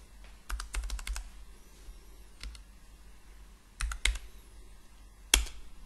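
Computer keyboard keys click in quick bursts during Archicad work, a short run of rapid taps, a lone press, then scattered clusters with quiet gaps between, no talking.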